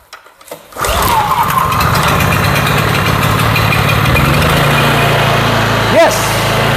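A small gasoline engine, just repaired and started on choke, catches after a brief cranking rattle and settles into a steady, loud running drone with a small bump near the end.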